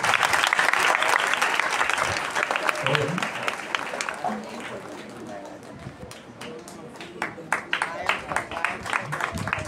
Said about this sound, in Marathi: पालकांनी पण मोठ्यांदा टाळ्या वाजू दे.